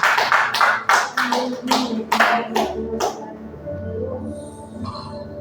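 Church congregation clapping during a Portuguese-language family celebration service, a burst of sharp rhythmic claps for about three seconds that then fades into quieter room sound with faint voices.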